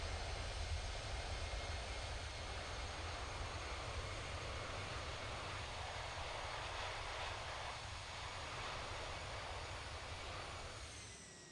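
Reverse thrust on an Airbus A319 landing in the X-Plane 11 flight simulator, a steady broad roar of jet engines heard from inside that holds evenly and fades slightly at the end.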